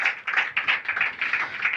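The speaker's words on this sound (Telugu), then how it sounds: "చప్పట్లు కొడదాం అందరూ కలిసి." A church congregation claps together in a steady, rhythmic beat of overlapping hand claps, moderately loud, during a pastor's sermon.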